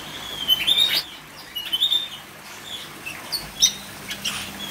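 Parrots in a breeding cage give high, scattered chirps and squeaky calls, irregular and close, with light rustling between them and no talking.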